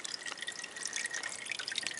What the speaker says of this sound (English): We put a terrarium filter with a waterfall in there for them.